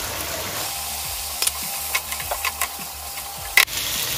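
Small chopped onions fry in a pan with chicken pieces for a bhuna chicken masala, giving a low steady sizzle with several sharp scraping and tapping knocks of a spoon stirring.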